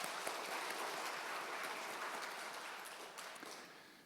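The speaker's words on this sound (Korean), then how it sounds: "우리 찬양대 위에서 박수 한번 하겠습니다." A congregation claps for the church choir during a Sunday worship service: a steady burst of many hands clapping, fairly close, fading slightly toward the end.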